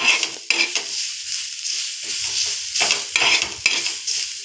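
Onions with salt are stirred in a frying pan, a spatula scraping and clinking against the metal in repeated strokes over a close, steady sizzle.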